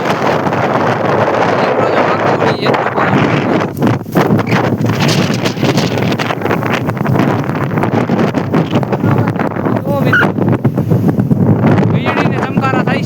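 Strong wind during a dust storm roars continuously and loudly, buffeting the microphone with heavy, unbroken gusts.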